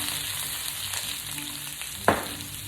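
Partly boiled pumpkin, onion and garlic frying in a hot wok, a continuous close sizzle with faint stirring and one sharp clatter of a utensil against the wok.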